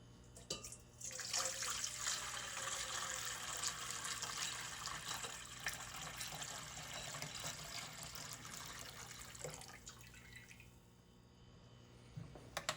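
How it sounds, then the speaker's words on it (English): Copper electrolyte liquid pours steadily into a silver refining cell, a continuous close splashing and trickling stream that tapers off toward the end, faint overall with no talk. "I'm just going to pour this right on in now."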